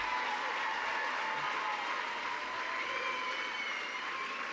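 Audience applause at a gala dinner rolls on evenly and fairly softly, a broad wash of clapping with faint sustained tones running underneath.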